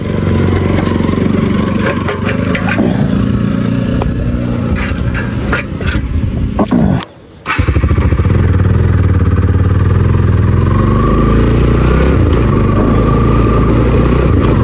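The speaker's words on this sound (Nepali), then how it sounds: "साइलेन्सरै फुस्किदिरहेको है गाइस।" Motorcycle with a loose silencer gives a loud, raw, continuous exhaust roar up close, cutting out briefly for about half a second midway, then returning just as loud.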